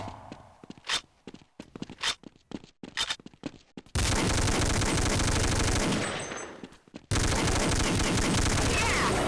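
Gunfire against zombies in Counter Strike Xtreme V6 zombie mode on de_dust2. Scattered single shots and footsteps come first, then long, loud, continuous automatic fire with one brief gap, filling the foreground.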